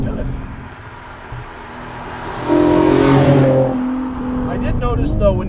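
A modified Infiniti G37 Coupe drives past at low RPM. Its engine hum swells as it nears, then fades away, with people talking over it.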